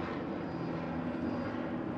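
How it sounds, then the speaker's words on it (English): Helicopter flying overhead outdoors, a steady droning engine and rotor hum with a low tonal rumble, moderately loud and continuous without talk. "A helicopter"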